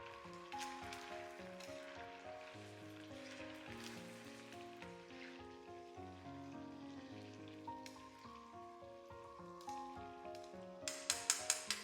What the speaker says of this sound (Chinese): 大概炸个1分钟左右